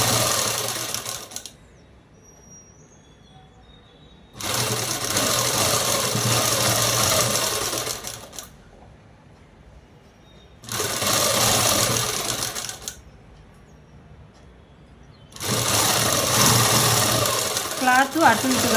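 An electric sewing machine stitches a long box-pleated frock, its close whirring bursts of a few seconds each repeating four times with quieter pauses between them.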